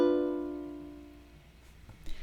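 A jazz ukulele chord from a Twinkle Twinkle Little Star arrangement is strummed once and decays softly, followed by faint clicks.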